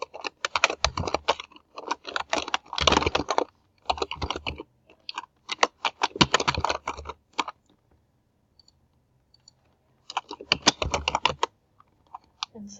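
Bursts of rapid keystrokes on a computer keyboard while entering an email address and account details on a university application page, several clicking runs separated by pauses, close and fairly clear with no speech.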